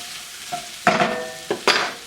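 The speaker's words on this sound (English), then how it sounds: "And let's add our paprika, the oregano. Stir that up as well." Paprika and oregano being stirred into a sizzling frying pan for Swiss steak, with soft sizzle under two pairs of quick spoon scrapes against the pan, close and fairly loud.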